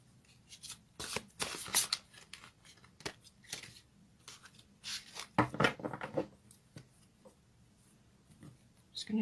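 A deck of fairy tarot cards is shuffled up close in irregular bursts of crisp riffling and flicking, separated by quiet pauses.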